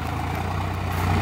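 A Swaraj 744 XT tractor, a 2021 model hitched to an 11-tine cultivator, runs with a steady low diesel drone and even throb, close and continuous with no voices.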